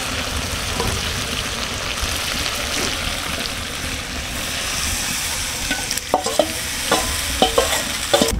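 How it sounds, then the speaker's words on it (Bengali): Soaked lentil and rice mixture being stirred into fried meat in a pot for homemade haleem, a steady sizzle with scraping spoon strokes that grow louder and more distinct toward the end. "এখন আমি আগে থেকে ভিজিয়ে রাখা ডাল চালের মিশ্রণটা মাংসের ভিতর দিয়ে দেব।"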